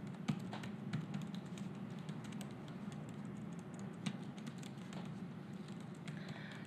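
Rapid keystrokes patter on a computer keyboard, an uneven run of close, light taps and clicks continuing for several seconds with no talking.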